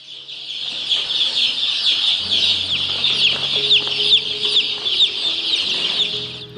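Gramapriya and Vanaraja chickens, new crossbred breeds, cluck steadily as a flock, a continuous busy chorus of close, moderately loud calls with no talk.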